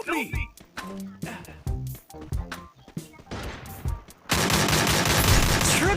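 Gunfire in the mobile shooter Free Fire, with sharp bursts and rapid shots at first, then dense continuous automatic fire near the end, loud and close, while a player talks over it.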